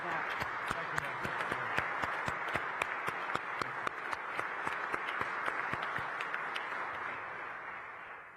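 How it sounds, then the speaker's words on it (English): An audience applauding at an official press event, with a steady wash of clapping and sharp individual claps standing out, sustained for several seconds, moderately distant. "Let's give him a round of applause and thank him for that."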